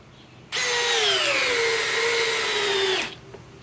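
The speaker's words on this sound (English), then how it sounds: "now let's run the Milwaukee M12 3rd generation with a 5-amp XC battery, and it's fully charged." A Milwaukee M12 third-generation cordless driver on a fully charged 5-amp XC battery drives a 5-inch LedgerLok screw, a loud close whine that starts abruptly, holds steady while slowly dropping in pitch under load for about two and a half seconds, then stops.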